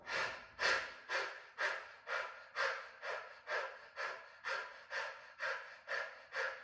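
Quick, rhythmic breathing during a dynamic yoga flow: about a dozen forceful breaths in a steady pulse, close and clear, with no talk.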